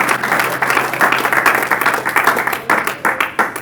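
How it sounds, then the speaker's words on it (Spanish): Loud, close clapping from a congregation in a church service, strong and continuous for a few seconds with uneven bursts. "Vamos a darle otro aplauso a Jesús."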